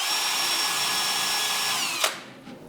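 Harbor Freight wheel grinding the knurling off a Bremen parallel clamp: a loud, steady high whine of the power tool that cuts off abruptly near the end, followed by a brief fading rundown.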